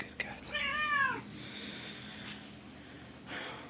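A stray mother cat gives one clear, rising meow close by, followed by soft snorting breaths and faint background noise.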